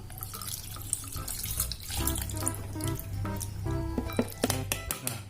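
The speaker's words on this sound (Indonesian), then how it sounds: "Kita cuci sampai bersih, sampai lendir yang nempel-nempel itu hilang." Tapioca pearls for boba milk tea are rinsed clean in water at a sink, with steady running and sloshing water, splashes and small drips over several seconds, close by and without speech.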